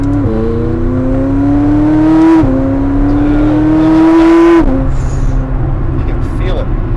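A McLaren 600LT engine revs hard under acceleration, its pitch climbing steadily through two gear changes with a brief drop between each, loud and close from inside the cabin.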